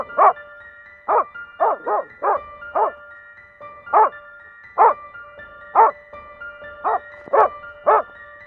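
Facing a bear, a dog barks relentlessly in a close, loud series of about twelve sharp barks. Some come in quick pairs and others are spaced apart, with near silence between them.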